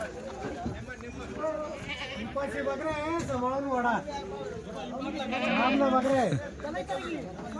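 Several goats bleat repeatedly at a busy goat market, wavering cries rising and falling close by, mixed with people talking.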